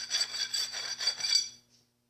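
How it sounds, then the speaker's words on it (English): Hand file rasping a burr off the inside of a hole in a metal campfire wok: about five quick, bright scraping strokes up close, then a short faint last rub before silence. "You see a little burr on the inside of it? Yeah. Check this out. Take this file."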